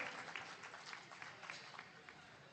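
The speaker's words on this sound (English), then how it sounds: "Please, a round of applause." Conference audience applauding, a dense patter of many hands clapping at a steady level for a couple of seconds, slightly distant and roomy.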